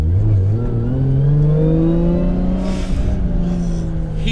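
A Toyota Supra's engine revs up loudly from inside the car, a strong rising drone whose pitch climbs steadily and then levels off under a steady roar, with no talking.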